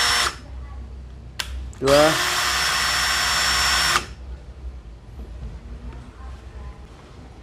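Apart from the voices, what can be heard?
cordless drill running at speed settings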